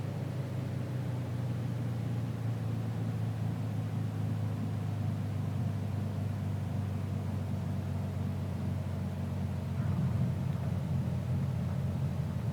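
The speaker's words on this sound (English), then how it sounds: "we're coming in for a nice touchdown" Small airplane touching down on runway 9 at Horace Williams Airport in Chapel Hill, heard from inside: a steady low engine drone and cabin rumble throughout, with a slight rise in noise near the end as the wheels meet the runway.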